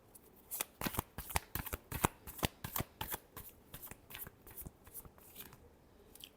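Tarot cards shuffled by hand, a quick series of crisp riffling bursts in an uneven rhythm, close and fairly quiet with no talking.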